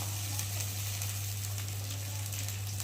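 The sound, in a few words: cumin paste, mustard and chopped tomatoes added to frying pan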